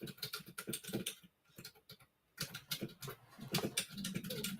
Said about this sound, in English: He's typing to people.